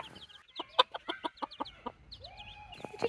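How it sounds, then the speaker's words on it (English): Lavender Orpington hen with four chicks making a run of close, distinct clucks and short calls, then a longer drawn-out note near the end. "My 4 chickies in the Lavender Orpington are getting along so well."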